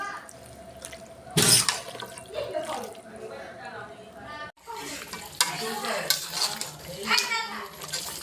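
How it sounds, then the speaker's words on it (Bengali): Meat for biryani being stirred and browned in a pan with masala, with scraping, clinking and sizzling throughout, a sharp clatter early on, and a voice talking over the cooking. "এখন মাংসটি নেড়ে চলে দিই"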